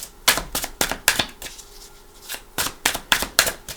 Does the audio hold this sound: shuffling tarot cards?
yes